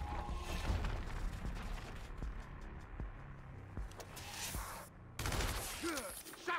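Gunshots in the video game Gears Tactics, a few scattered sharp cracks and mechanical clanks over a low ambient rumble, moderately loud with a burst of louder effects near the end.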